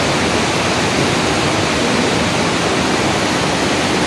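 River water in monsoon flood crashing against rocks near Keonjhar, Odisha, a loud, unbroken roaring rush of turbulent water filling the whole clip, with no voices.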